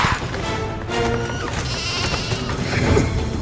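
Sheep bleat in a dubbed animated film, several wavering calls over a busy, loud soundtrack with other noise mixed in.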